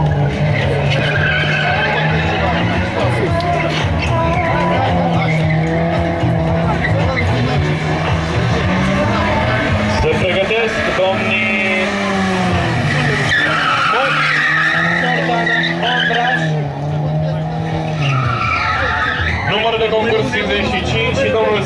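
Rally cars at the start line of a Romanian rally stage skid and squeal their tires with loud roaring engines, a continuous dense wash of tire screech and engine noise under commentary.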